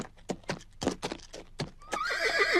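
A horse at a horse fair a few miles outside London gives a loud, close whinny that rises and wavers, following several sharp clip-clop hoof strikes on hard ground.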